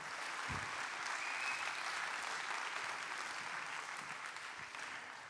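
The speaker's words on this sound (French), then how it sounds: "Et on peut de nouveau applaudir Guillaume Gouard, directeur territorial Pays" Audience applause at a round-table session of a professional conference, a dense, steady wash of clapping sustained through the whole stretch, heard from a distance and fairly quiet.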